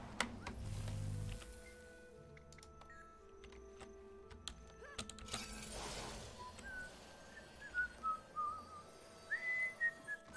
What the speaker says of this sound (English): Shady customer, he whistles too.